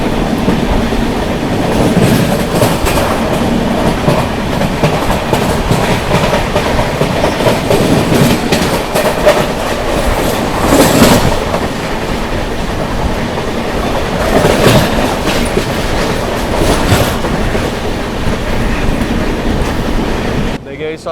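Poorva Express train running between New Delhi and Howrah, heard from inside a 2AC coach: a loud continuous rumble with rhythmic clickety-clack of wheels over rail joints and occasional louder surges.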